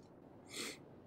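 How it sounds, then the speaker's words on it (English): A single quick, soft sneeze bursts out near the middle, otherwise quiet background. "I'm gonna sneeze"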